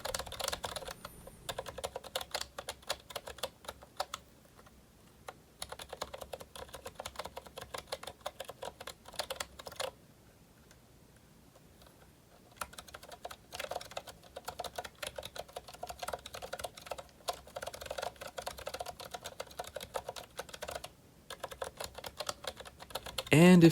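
Keys clack in quick, muffled bursts on a GK61 mechanical keyboard fitted with lubed Zilent V2 silent tactile switches and O-ringed keycaps, soft and close, broken by a few pauses.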